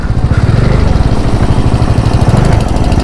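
Royal Enfield Himalayan motorcycle engine running on a mountain trip, a loud, close, steady single-cylinder thump at idle with a rapid regular pulse and no speech.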